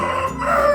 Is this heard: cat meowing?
no